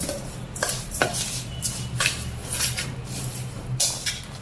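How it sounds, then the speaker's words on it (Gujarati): Spices and oil stirred into plain yogurt in a bowl with a spoon, giving repeated scraping clinks and soft swishes at a steady rhythm, close by and fairly quiet, with no talking. "હવે બરાબર બધા મસાલા મિક્સ કરી દેવાના, તેલ ને મસાલા બધું"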